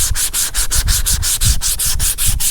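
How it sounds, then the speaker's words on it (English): Fiberglass repair on a cracked Chevy dashboard is sanded by hand in rapid, even back-and-forth strokes, a close, loud, rhythmic scratching with about six strokes per second and no talking. "Same way up in here, I'm gonna do it by hand."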